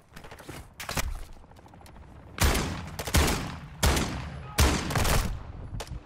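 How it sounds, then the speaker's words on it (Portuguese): Bursts of rapid gunfire in Warzone 2.0, several loud volleys in quick succession separated by short quieter gaps, close and punchy. "Tô levando tiro aqui."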